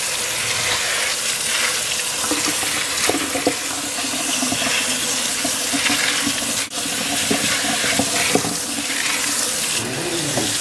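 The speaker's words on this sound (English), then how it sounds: "I'm going to rinse off my hands from touching them." Hands rinsed under a running kitchen tap, a loud continuous stream of water splashing into a sink with slight shifts as the hands move through it.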